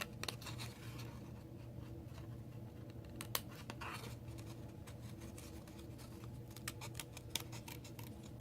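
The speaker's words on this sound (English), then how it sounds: "now we're simply going to cut it out using our paper snips" Paper snips cut out a paper-craft piece for cookie treat bags, giving a run of sharp snipping clicks and crisp paper cuts, some close together, over a quiet background.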